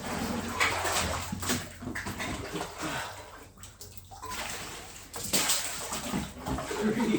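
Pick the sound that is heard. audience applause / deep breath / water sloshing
water sloshing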